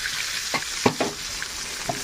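Cubed onions fry in a pan alongside browned chicken, making a soft steady sizzle broken by a few sharp stirring clinks and scrapes.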